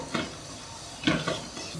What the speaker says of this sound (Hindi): अब एक सॉस पैन लेंगे, उसमें ऑयल डालेंगे, लहसुन डाल देंगे और लहसुन को थोड़ा सा फ्राई कर लेंगे